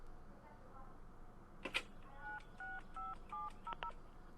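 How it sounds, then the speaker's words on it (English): A cell phone being dialed in the Secret Files Tunguska video game: a quick click followed by a run of distinct keypad tones, each short and evenly spaced, fairly quiet over a soft background. "We'll call the cell phone."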